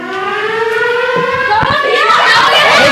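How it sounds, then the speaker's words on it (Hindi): A civil defense air-raid siren, played from a computer during a school mock drill in India, wails loudly, its tone rising steadily over a few seconds, close and continuous. "तो सायरन हम बजाएंगे अपने कंप्यूटर से"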